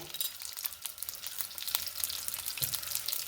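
Chillies, toor dal, urad dal, garlic and mustard seeds fry gently in oil, giving a soft, fairly quiet crackle with small pops and light stirring, close up and without speech.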